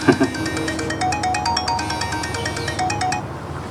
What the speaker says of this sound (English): let's dial the number